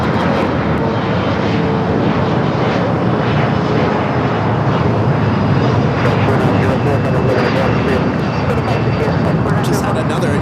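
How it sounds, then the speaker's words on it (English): A United Boeing 777-200 airliner inbound from Newark touches down on the south side of LAX airport, a loud, steady broadband roar that fills the whole stretch without letup. "Just had another United 777-200 coming in from Newark, flight 2238, just touching down here on the south side."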